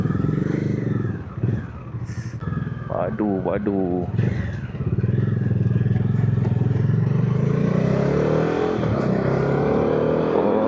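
A motorcycle being ridden and revved, its engine droning low and steady with throttle swells close by, while riders chat over it.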